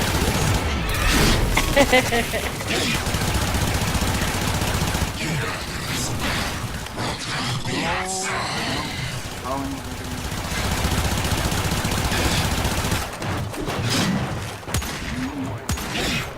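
Rapid gunfire in Warframe sounds in dense bursts over a busy mix of mechanical clanks and booms, loud and near, with a voice talking partway through.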